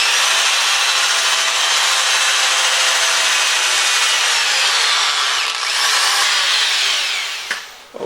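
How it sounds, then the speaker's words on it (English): Loud, continuous abrasive whirring of a disc sander grinding solid wood, steady for several seconds before winding down and cutting off near the end. "I have done the first sanding on everything"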